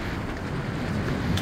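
Steady wind gusts over the sea along the Igidae coastal walking trail in Busan, a continuous close broadband rush with no one speaking.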